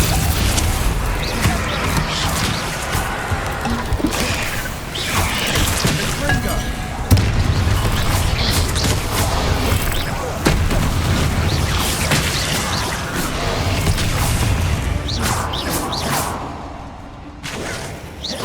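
Spell blasts and fighting in Hogwarts Legacy, including Confringo fire explosions, with booming whooshes, thuds and crashes over a continuous dense battle mix, with voices calling out among the effects.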